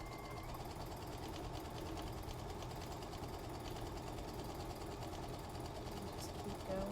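A sewing machine runs steadily, stitching a fabric seam on kid's shorts made from a man's shirt, a continuous rapid mechanical whir at close range.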